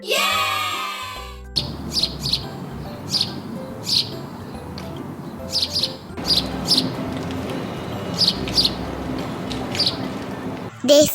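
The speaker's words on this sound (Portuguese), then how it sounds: "Pardal." Sparrow chirps, a series of short bright tweets repeating in loose bursts over steady background noise, with a brief other call at the start.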